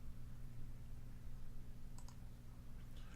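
A computer mouse gives a quick pair of faint clicks over a steady low background hum, with otherwise quiet surroundings.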